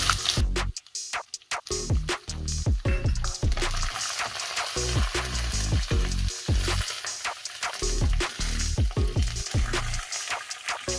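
About twenty dried red chillies, each cut in two, crackle in hot oil for Pallipalayam chicken. A loud, continuous frying hiss runs under repeated clattering stirs and scrapes against the pan.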